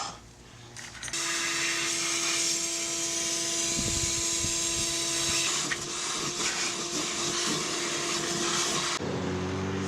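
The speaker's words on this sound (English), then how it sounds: "And I will go ahead and vacuum." A vacuum cleaner whirs loudly and steadily for several seconds close by on a 4Runner roof during a roof rack install, its motor holding a constant hum before cutting off abruptly.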